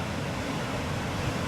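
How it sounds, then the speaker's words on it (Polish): Sea waves break at the foot of the cliffs at Boca do Risco, Madeira, as a continuous broad wash of surf with steady roar and no distinct individual crashes. "popatrzeć przed siebie na te fale, jak się rozbijają u stóp"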